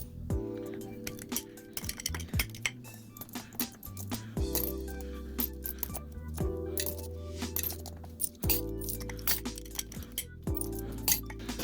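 Loose change being stuffed into cash envelopes for sinking funds makes scattered metallic clinks and jingles, close and intermittent, heard under steady background music.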